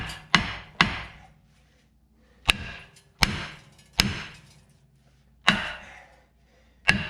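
Seven sharp, loud metal hammer strikes ring out at irregular intervals against a corroded brake rotor on a 2013 Dodge Grand Caravan, each blow followed by a short ringing decay.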